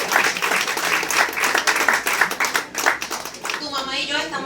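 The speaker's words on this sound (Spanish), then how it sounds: "Un aplauso." An audience at a Puerto Rico book event honoring a microfiction prize winner breaks into applause, a loud burst of many hands clapping that thins out and fades near the end as a voice starts to speak.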